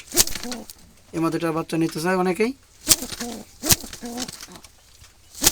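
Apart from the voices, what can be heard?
wild pigeons cooing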